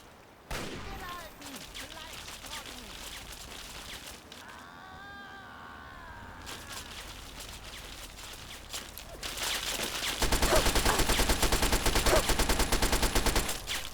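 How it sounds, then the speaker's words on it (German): Sustained automatic assault rifle fire from the video game Fallout 3, a loud dense burst of rapid shots building toward the end over a noisy game soundscape. "Einfach nur mehr Dauerfeuer, sonst schaffen wir das so eh nicht."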